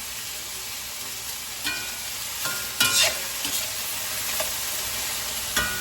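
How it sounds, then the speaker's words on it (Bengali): A small batch of potatoes sizzles steadily in a large kadai, with a few louder scrapes and stirs of a spatula breaking through the constant frying hiss; a brief word is spoken quietly. "অল্প একটু আলু ভাজা, তার জন্য কড়াইটা একটু বড়ই, কিন্তু বেশ ভালোই হচ্ছে অ্যাকচুয়ালি"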